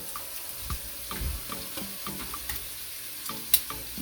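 Salt fish fritters fry in a hot pot on a stove, giving a steady soft sizzle with scattered small pops and a few sharper crackles, close by and moderately quiet with no talking.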